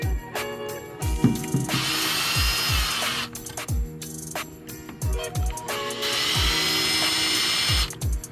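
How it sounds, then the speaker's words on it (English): A power drill runs in short repeated bursts while fitting a headlight on a car, whirring up and down in pitch with ratcheting clicks and thuds between runs, loud and close. "And it's going to get drilled in right there, just like that."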